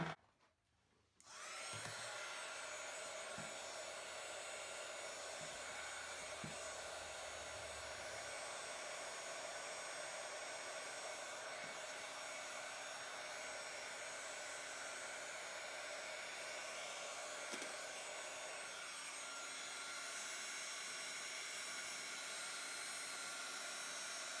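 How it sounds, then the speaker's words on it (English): An embossing heat tool blowing hot air over a snowflake card, starting after a brief quiet moment with a click and then holding as a loud, steady whooshing whine. A few faint taps sound underneath. "now I'm going to heat up my heating tool and I will emboss this sucker"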